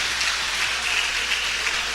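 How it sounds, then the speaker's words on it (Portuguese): Sustained applause from a church congregation at an afternoon service, a continuous hiss-like wash of many clapping hands at moderate level, even and unbroken from start to end. "Aplauda bem forte, mas aplauda forte ao Senhor nessa tarde."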